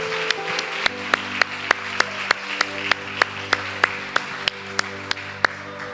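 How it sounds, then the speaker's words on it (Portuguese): Church congregation clapping in praise, sharp regular claps in a steady rhythm over sustained organ or keyboard chords, the tones holding throughout. "Você pode aplaudir bem forte ao Senhor Jesus?"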